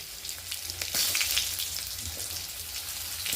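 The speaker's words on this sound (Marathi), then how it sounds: "दोडके व्यवस्थित परतून घ्यायचे टाकल तसे लगेच परतायचे" Stuffed ridge gourds frying in hot oil in a pan, a dense crackling sizzle that stays steady and fairly loud throughout, with soft stirring bumps and no speech.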